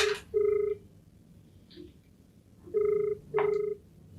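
A telephone rings in a quiet room in three bursts of a two-tone electronic ring: one short burst, a long pause, then two more close together, with a faint low murmur beneath.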